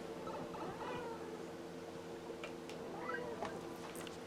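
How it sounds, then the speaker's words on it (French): A cat meows close by near a tripod, a few short plaintive mews rising over a steady background hum from a video game playing at home. "Il y a un chat qui vient miaouter sur le trépied"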